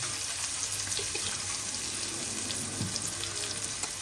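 Garlic frying in oil for a taro leaf (kochu shak) dish gives a dense, continuous sizzle that stays steady and fairly loud across the whole moment.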